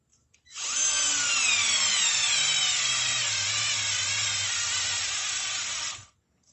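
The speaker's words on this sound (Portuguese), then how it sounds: "Esse parafusamento aqui, querendo ou não, é um parafusamento pesado para esse tipo de máquina." A Deli 3.6V cordless screwdriver drives a screw into dry wood, a steady whining motor whir that bogs down and drops in pitch under load for about five seconds before stopping abruptly.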